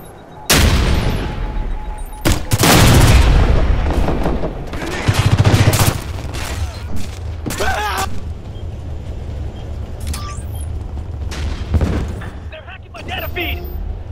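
A frag grenade blast and gunfire in the tactical shooter Ghost Recon Future Soldier, with heavy booming bursts and rattling shots over a low vehicle-like rumble, mixed with frequent voices.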